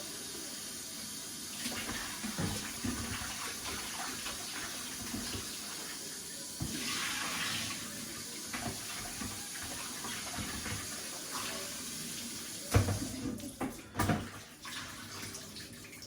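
Tap water runs steadily to wash peeled king prawns, a continuous close hiss and splash with a few clunks and knocks of handling near the end.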